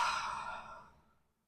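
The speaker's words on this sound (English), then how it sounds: "Just taking a few rounds of natural breath." A single long, soft exhale during seated yoga breath-work, a breathy hiss that fades out over about a second, close and alone with no talk.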